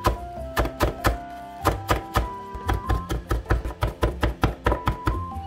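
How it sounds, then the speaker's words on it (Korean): A kitchen knife chopping green onion into flower shapes on a cutting board for a North Korean chicken dish, a quick series of crisp, close thunks in uneven bursts. "파도 중간에 이렇게 가름 내시고 꽃 모양으로 지금 칼질을 해요"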